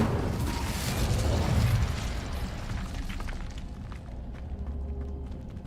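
A burst of roaring flame from an Incendio fire spell in Hogwarts Legacy swells up loudly, then settles into a fading, crackling rumble that trails off quietly at the end.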